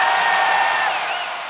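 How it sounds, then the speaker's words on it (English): Basketball arena crowd during a men's college game reacting with sustained disapproval after a second free throw, a dense, loud wash of many voices holding steady and then slowly fading. "Crowd did not like that."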